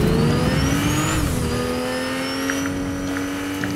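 Video-game car engine drones steadily and loudly, pitch rising then dropping briefly at a gear change before holding, with no talk over it.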